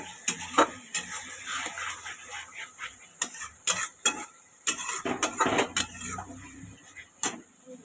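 Spicy gravy with chili powder stirred and sautéed in a pan: repeated spoon scrapes and sharp metallic clinks against the pan over a low sizzle, close and irregular, with no talking.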